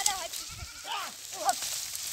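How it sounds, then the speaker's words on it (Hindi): Goats on a farm bleat several times, wavering cries spread through the moment amid background voices and outdoor noise. "बकरी यहाँ से वहाँ घूम रही है"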